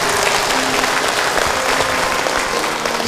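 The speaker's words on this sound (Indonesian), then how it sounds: "Baik, tepuk tangan untuk Ahilman." Audience applause after an Indonesian religious lecture, a loud, continuous wash of clapping from a crowd filling the whole moment.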